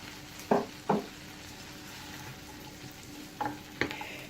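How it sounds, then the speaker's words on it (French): Onion sautéing in melted butter over low to medium heat for a zucchini gratin, a soft steady sizzle broken by a few short scraping stirs near the start and end, close and fairly quiet with no talking. "Je vais faire revenir à feu doux à moyen l'oignon jusqu'à ce qu'il devienne translucide."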